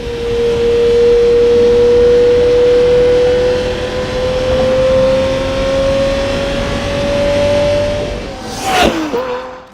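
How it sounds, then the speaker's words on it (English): A Lamborghini Murcielago V12 engine drones at a steady, loud pitch that climbs slowly for several seconds, then cuts out sharply into a brief burst of noise near the end. "The Murcielago's V12 engine roars like a lion"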